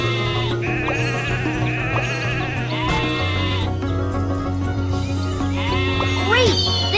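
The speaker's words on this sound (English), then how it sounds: "Sheep have wandered onto the tracks." Sheep in a Thomas and Friends Big World Big Adventures video game bleat repeatedly over cheerful background music, several wavering calls close up and fairly loud.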